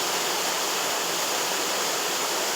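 Steady, full roar of Fall Brook Falls, a waterfall in the North Maine Woods in autumn, pouring continuously at close range with no voices or other sounds.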